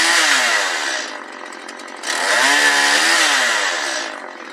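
A firewood-cutting machine with a saw runs loud and close, whining through two long cutting passes with a dip in pitch between them as the blade bites the wood. No one speaks.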